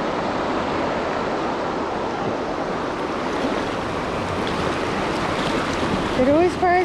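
River rapids rushing around a tube while tubing in Townsend, Tennessee, a loud broadband roar of churning water close by, with a person's voice breaking in near the end.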